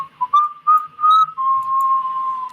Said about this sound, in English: I don't trust the innocent whistling.